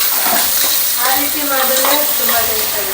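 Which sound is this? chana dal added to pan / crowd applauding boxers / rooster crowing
chana dal added to pan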